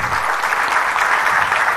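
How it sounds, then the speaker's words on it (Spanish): Audience applause at an investment expo conference in Rosario, Argentina, a dense, steady wash of many hands clapping throughout, fairly loud and close, with no voices over it. "Yo le pido un fuerte aplauso a todos ustedes para Fabio."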